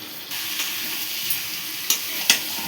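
Shrimp and potato stir-frying in a pan, a steady low sizzle with a couple of sharp clicks from a spatula against the pan near the end.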